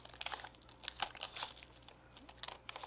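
Model scenery material being cut around the edge of a model building, giving close crinkling and crackling rustles in short irregular bursts, fairly quiet, with no voices.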